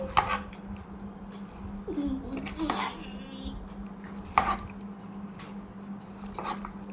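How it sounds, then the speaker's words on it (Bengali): A spoon stirs a banana custard mixture in a bowl, giving scattered sharp clinks against the sides and soft wet scraping, close and moderately quiet over a low steady hum. "পরিমাণের কলা, ভালো করে মিশিয়ে নিচ্ছি।"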